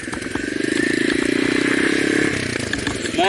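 Motorcycle engine held at a steady rumbling idle-to-mid rev as the clutch is popped for a wheelie, loud and close with a throbbing, slightly rattly tone that eases off near the end.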